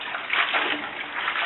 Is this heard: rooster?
no